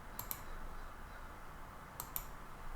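Two pairs of sharp computer mouse clicks, spaced about two seconds apart, made while tracing field boundaries in AFS Connect mapping software; quiet and close over a steady low room hiss.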